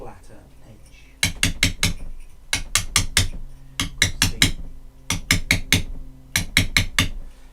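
Hammer blows on a steel chisel cutting Storeton sandstone while carving a stone figure, ringing out in quick bursts of three to four sharp, bright strikes with short pauses between groups, close and loud.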